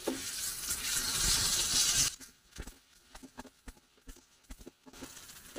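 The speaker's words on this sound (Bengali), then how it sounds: "একটু নেড়ে চেড়ে নিই" Green chillies frying in oil in a pan, a loud steady sizzle for about two seconds, then quieter scattered scrapes and taps of stirring with soft crackles.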